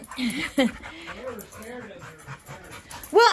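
Boxer-pit bull mix dog indoors gives high, wavering whimpers and short whines, soft and close, with a brief louder yelp near the end; people talk quietly around it.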